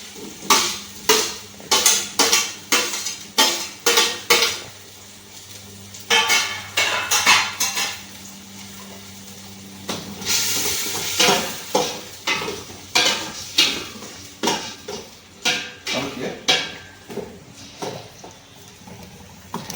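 Tomatoes fry in hot oil for chicken biryani while a spoon stirs and scrapes a metal pan in steady rhythmic strokes, with a constant soft sizzle beneath the repeated clanks.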